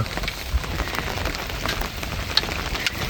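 Steady rain pattering on a surface beside a river, a dense continuous hiss of drops with occasional louder splashes, no voices.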